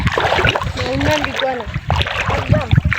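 Sea waves splash and wash loudly close by at the shore, a continuous turbulent rush with people's voices talking over it.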